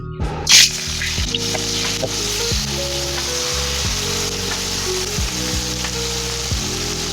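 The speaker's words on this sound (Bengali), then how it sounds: "এবার তেলটা গরম হোক, এবার এটাকে ভাজা হবে" Prawns coated in salt and turmeric frying in hot oil, a loud, continuous close sizzle with crackling spatter throughout, opening with a brief sharp hiss as they hit the oil.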